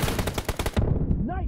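Rapid automatic gunfire in a shooter video game, a fast burst of about a dozen close, loud shots lasting under a second, followed by brief game sounds.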